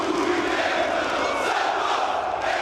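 A crowd of Brazilian football fans cheers and chants in a stadium, a dense, steady roar of many voices that holds without pause.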